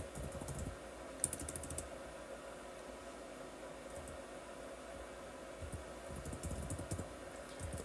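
Soft keyboard typing as someone enters a web address, with scattered quiet key clicks and a brief louder tap, faint beneath steady room hiss.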